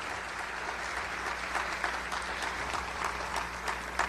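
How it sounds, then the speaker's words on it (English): Sustained audience applause at an Indiana Republican Party spring dinner, a dense steady clatter of many hands clapping in a large room, continuing throughout without any speech. "sure, give her some applause."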